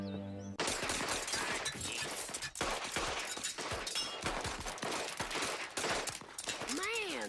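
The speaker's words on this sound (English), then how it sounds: "Man, those Derringer bullets are weak." Gunfire from Derringer pistols in a Simpsons cartoon, a dense burst of rapid shots and impacts running almost continuously over a loud scene, with a brief whistling tone near the end.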